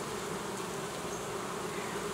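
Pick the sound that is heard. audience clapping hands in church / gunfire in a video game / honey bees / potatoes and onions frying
honey bees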